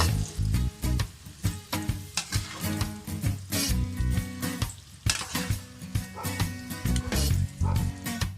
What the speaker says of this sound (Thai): ทอดจนแป้งเหลืองสุกทั่วเราก็จะเอาขึ้นนะคะ